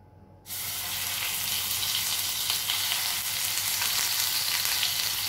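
Onion paste hits a hot pan and breaks into a loud, sustained sizzle after a brief quiet start, frying steadily and close up with no voices.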